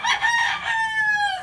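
A rooster crows once, a single drawn-out call nearby, loud and clear, fading at the end.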